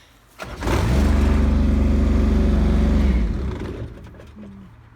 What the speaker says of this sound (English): You want to start the tractor and pull it around?